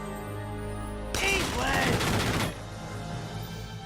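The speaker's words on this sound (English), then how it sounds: "Probably could have shot less bullets" Sustained bursts of video-game gunfire from Valkyria Chronicles 4, a dense rattle of rapid shots lasting over a second, with game music playing underneath.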